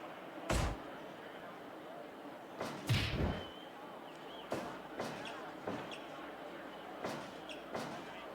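A wrestler is thrown with an overhead belly-to-belly release and slams onto the mat, one sharp impact among a string of thuds and slaps in a match, with commentary and crowd faint underneath.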